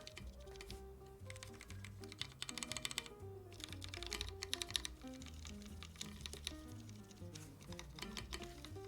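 Mechanical keyboard with a clicking stabilizer being typed on, a steady run of close, crisp key clacks and taps over a soft background of music.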